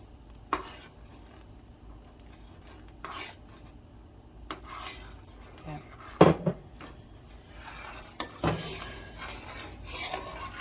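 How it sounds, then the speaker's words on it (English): Blackberry cobbler filling is stirred with a spoon in a pot, giving sporadic scrapes and clinks against the metal at close range, quiet and irregular. "I'm going to stir while we're doing that."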